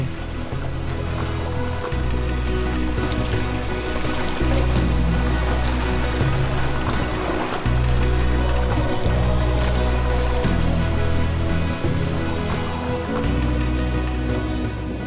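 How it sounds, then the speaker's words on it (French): Rough sea waves wash and slosh steadily around a sailing canoe headed toward Huahine, with a strong sustained wind and a low, droning rumble running through the whole passage. "La mer est formée, le vent soutenu, Tauha file vers Huahinei au rythme des vagues."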